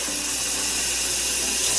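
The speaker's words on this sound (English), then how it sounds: "Just add room temperature water is fine." Room temperature water pours steadily from a tap or jug into a cup in a home kitchen, a continuous close hiss and trickle lasting the whole short stretch without talk.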